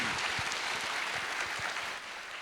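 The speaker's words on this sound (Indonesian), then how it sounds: "Sekali lagi tepuk tangan yang meriah untuk Pak Ganjar." Lively audience applause at a university public lecture, a thick continuous roar of many hands clapping that stays loud and even, easing off only slightly toward the end.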